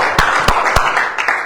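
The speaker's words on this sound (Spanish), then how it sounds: "Aplaudimos al Rey" A church congregation claps in a steady rhythm, several sharp, loud claps spaced evenly apart, with no voices over them.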